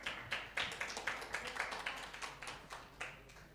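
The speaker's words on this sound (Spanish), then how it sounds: "Con un aplauso lo recibimos." Sparse, distinct claps from a small audience welcoming a singer-songwriter at a presentation event, about a dozen separate hand claps in a loose, uneven rhythm, fairly faint and close.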